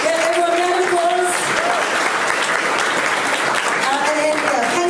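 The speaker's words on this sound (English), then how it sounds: "everyone round of applause." Audience at a lively talk event clapping as volunteers head up to the stage, steady applause with a sustained tonal hum or music running underneath and faint voices.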